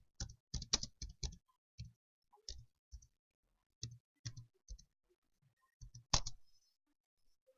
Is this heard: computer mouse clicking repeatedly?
yes